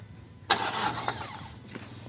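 A used Toyota Etios car's engine cranks and catches in a sharp burst, then settles into a low, steady idle with a small revving blip near the end.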